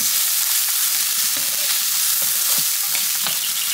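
Tocino strips frying in a pan, a steady close sizzle and crackle with soft bursts of spatter, loud and continuous with no voices over it.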